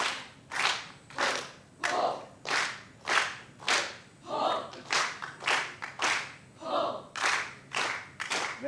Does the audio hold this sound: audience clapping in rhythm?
yes